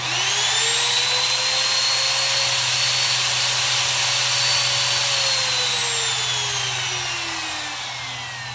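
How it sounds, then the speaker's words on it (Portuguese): A homemade three-motor CNC router spindle, switched on through a relay, gives a loud, steady high-pitched whine that holds for several seconds and then begins to wind down, with no talking. "No caso aqui eu estou falando para tupia. Vou acionar agora."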